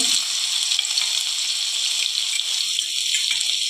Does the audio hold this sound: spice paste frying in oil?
yes